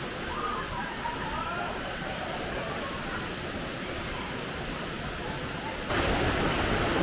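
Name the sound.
small waterfalls in Seven Ladders canyon, Romania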